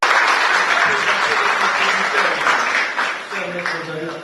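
An audience at an academic book presentation applauds a professor with a dense, loud wash of clapping that gradually softens toward the end, while voices carry faintly under it.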